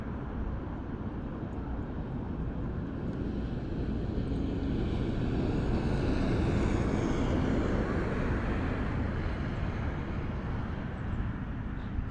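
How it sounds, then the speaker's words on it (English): A DJI Mavic Mini drone fitted with new propellers flies at a distance, a faint, steady buzzing whine that swells slightly midway and blends with wind-like hiss. "I'm pretty sure he can hear the drone"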